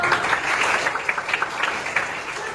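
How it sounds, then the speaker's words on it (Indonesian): Students in a classroom give a brief round of applause, a steady close patter of many hands that holds evenly for a few seconds without talk. "Tepuk tangan dong."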